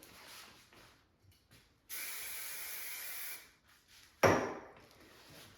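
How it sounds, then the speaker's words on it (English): A steady hiss of hairspray sprayed onto back-combed hair, held for about a second and a half, followed by a shorter sharp burst, with quiet rustling in between. "Spray it. Always spray my back combing"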